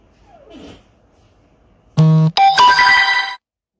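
A mobile phone in a bedroom sounds a loud, bright electronic ringtone for about a second and a half, cutting off abruptly after a faint brief noise beforehand; no one speaks.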